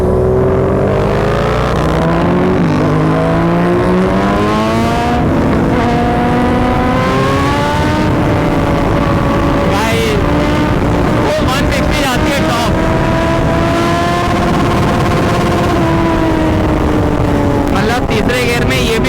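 A Royal Enfield Continental GT 650 and a Kawasaki Z900 accelerate hard in a drag race, engines loud and close with rising revs climbing through gears, wind buffeting over it and a voice talking.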